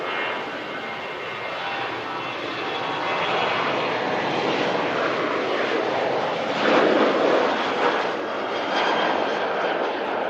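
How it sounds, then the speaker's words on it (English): An EasyJet Airbus A321 jet airliner arriving at Manchester Airport produces a steady, broad engine roar that swells slightly midway and holds for about ten seconds, fairly loud and with no voices. "The A321 from EasyJet just arrived in."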